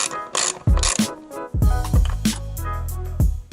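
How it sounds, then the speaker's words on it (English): A ratchet wrench backing out 10mm bolts on an MX5 Miata gives rapid metallic clicking in several short bursts, close and loud, with clanks of parts between them. "Now you can remove these 10mm bolts"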